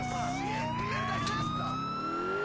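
A police car siren in the GTA IV video game wails loudly and continuously, rising and falling, over a rumble of engine and road noise with no talking.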